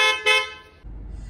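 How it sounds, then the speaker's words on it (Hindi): A car horn honking outside a house gate, a bright blaring tone with a short second push, then it cuts off, leaving a low engine rumble idling nearby. "हॉर्न बज रहे हैं"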